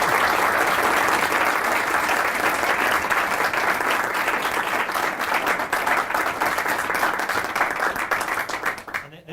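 An audience gives a full, dense round of applause that stays loud and steady, then thins out and fades in the last second.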